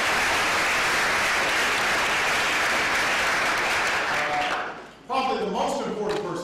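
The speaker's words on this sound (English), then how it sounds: "So give them a big round of applause." A large crowd applauds UConn Huskies fans at a White House celebration for the women's basketball team, with loud sustained clapping that fades out near the end before a voice starts speaking.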